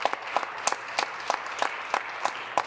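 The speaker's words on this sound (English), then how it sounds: "I wanted to ask the legislature to give a round of applause for Fern" A legislative chamber offers a thin round of applause, sharp individual claps in a loose, steady rhythm at moderate distance over a quiet room.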